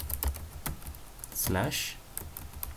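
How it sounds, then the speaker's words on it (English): Quick keystrokes clatter on a computer keyboard in an irregular burst of close, crisp taps, with a brief louder swell of noise in the middle. "so we type localhost"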